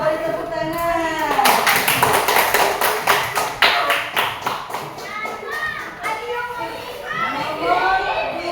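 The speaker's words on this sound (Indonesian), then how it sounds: "Kita beri tepuk tangan." Classroom applause: a group of children clap in quick irregular bursts, loud and close, mixed with children's voices and chatter throughout.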